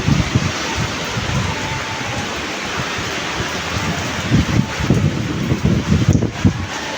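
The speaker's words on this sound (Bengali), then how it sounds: "কতটা জোরে হচ্ছে বৃষ্টি, আল্লাহ আল্লাহ।" Heavy rain falls with gusting wind, a loud broadband wash with rumbling buffets that swell and ease, close to the microphone.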